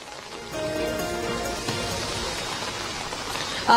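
Steady heavy rain pours down on Ahmedabad in a dense, even hiss of drops that never lets up, with a brief louder burst at the very end.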